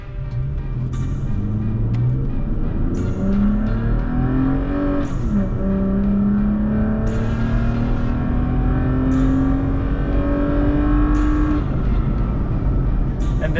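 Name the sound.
Toyota Tacoma with MagnaFlow exhaust accelerating onto highway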